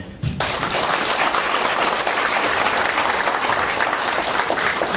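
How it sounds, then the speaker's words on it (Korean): A seated crowd at an inauguration ceremony of a construction machinery association in Nonsan breaks into sudden, dense, sustained applause that stays loud and even throughout. "박수 한번 보내주시고"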